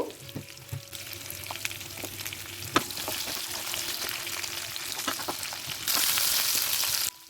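Pumpkin pieces and beans are stir-fried in a pan for a Bengali mixed-vegetable spinach dish, with a steady soft sizzle broken by scraping stirs and a louder hissing burst near the end.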